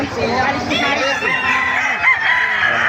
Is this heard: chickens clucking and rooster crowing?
yes